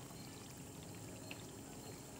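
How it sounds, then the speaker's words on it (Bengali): Water left in a mixer jar after rinsing poured into a cooking pot of potatoes, a faint, steady splashing pour heard alone at low level throughout. "এবার এইটার মধ্যে দিয়ে দেবো মিক্সিতে যে জলটা আছে, ধোয়া জল"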